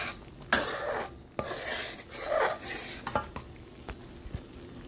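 A spoon stirs butter into melted jaggery in a pan for a gud patisa sweet, making scraping, clinking strokes against the metal with a soft sizzle underneath, close and irregular.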